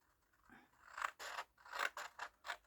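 Scissors cut through a 6 cm strip of paper for a small handmade box, a series of close, crisp snips and slicing rasps in quick irregular rhythm, with no talking.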